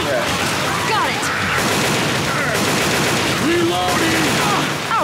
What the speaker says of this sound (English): Oh, sweet Jesus, you shot me!